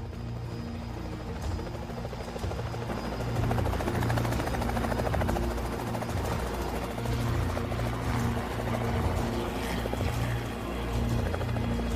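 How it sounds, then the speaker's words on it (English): Helicopter flying in an action film, a steady loud rotor drone with a low throbbing beat that swells slightly and holds for the whole stretch, with no talk over it. "the helicopter is up in the air"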